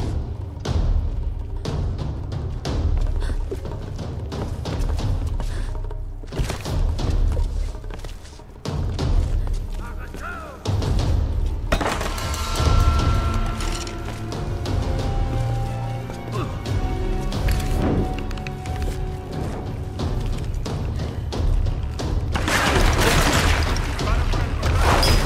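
Gunfire and heavy impacts in a Tomb Raider action sequence, with repeated sharp shots, thuds and crashing bursts over a dense, loud game soundscape, while a voice talks at times.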